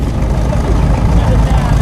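A fuel-injected 1957 Chevy idles at a street car show cruise night, a steady low rumble filling the clip with crowd noise and talk mixed in.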